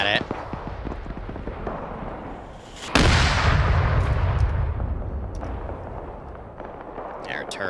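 A BMP armored vehicle's cannon fires at a tank in a military video game, one heavy blast followed by a long rumbling decay, with game noise and chatter under it.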